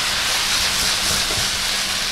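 Boiled udon noodles drop into a hot pan with cabbage and green onion for beef yaki udon, setting off a loud, steady broadband hiss that holds evenly throughout.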